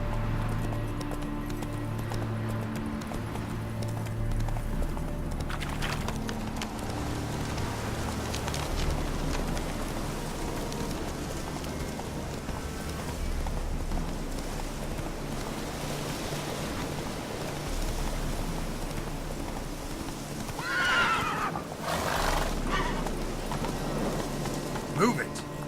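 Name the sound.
horse Roach galloping and neighing in video game The Witcher 3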